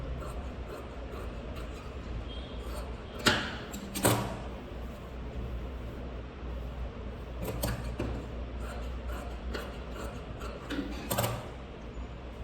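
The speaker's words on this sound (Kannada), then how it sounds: "ಏನು ಎಕ್ಸ್ಟ್ರಾ ಇರುತ್ತೋ ಅದನ್ನು ಟ್ರಿಮ್ ಮಾಡಿ ತೆಗೆದ್ಬಿಡಿ" Scissors trim excess fabric from a stitched blouse, with a few sharp snips and clicks spread out over a quiet, faintly humming room.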